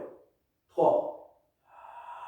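Breath during a Pilates exercise: a short, strong audible exhale mid-clip, with someone speaking French before and after it.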